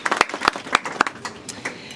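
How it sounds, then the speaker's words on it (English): Scattered applause for healthcare workers at a hospital event with the US Ambassador in Kenya: a thin patter of separate hand claps, several distinct sharp claps spaced across two seconds, fairly faint and close. "a round of applause for all the healthcare workers and everything that you do"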